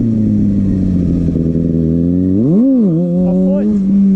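A motorcycle engine revs hard as the rider works the throttle for a wheelie: a steady high idle-like drone, then a sharp rising rev surge and wavering throttle blips, loud and close.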